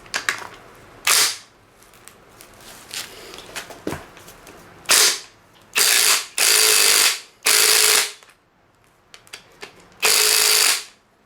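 Power tool, likely an impact driver, loosening a recessed nut while installing RS-R lowering springs on a 2022 Toyota GR86, loud ratcheting bursts of about a second each repeating several times, with quieter clanks between.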